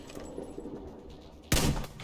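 Enemy gunfire in the video game Metro Exodus: a sudden loud burst of shots breaks in after a quieter stretch of ambient game noise, sharp and close.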